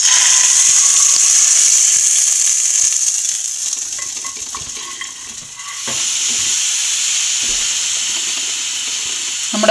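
Hot oil tempering poured into a pot of dal curry, a loud hissing sizzle that dips briefly and surges again, heard close with faint scraping and no voices.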